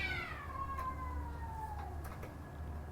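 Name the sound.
cat fight on the roof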